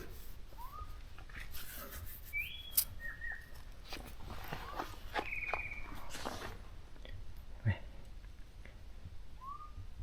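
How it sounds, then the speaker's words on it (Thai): Birds call now and then in a forest near a sandstone cave, brief whistled notes scattered across a quiet, hushed setting with faint footsteps and rustling close by. "ได้ยินแต่เสียงนกร้องนะครับ"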